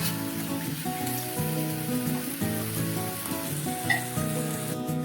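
Eggs and water go into a pan of sizzling egg curry, giving a dense, even sizzle and bubbling with some clattering, steady and close, with no talking.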